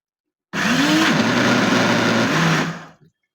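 A kitchen blender grinds saag greens in one loud, steady whir that starts abruptly, runs for about two and a half seconds, then winds down and stops.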